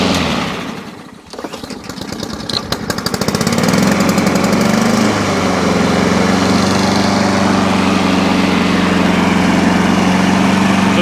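A lawn mower engine starts after a speed adjustment, sputtering and knocking briefly before settling into a loud, steady, close running drone for the rest of the clip.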